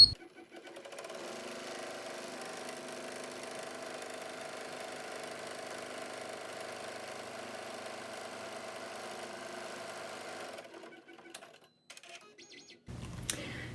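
An embroidery machine stitches a contour mask in the hoop, a faint, steady mechanical whirring and rapid needle patter running for about ten seconds before stopping, followed by light handling noises.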